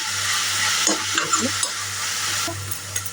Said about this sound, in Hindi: सब्जी नमक को अच्छी तरह से मिला लेंगे